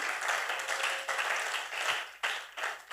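A church congregation breaks into lively applause and acclamation, a dense wash of clapping that swells and dips for a few seconds, moderately loud in a large room.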